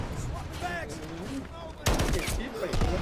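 Rapid automatic gunfire in the video game Delta Force bursts in loudly partway through and keeps rattling, while a player talks excitedly before and during the shots.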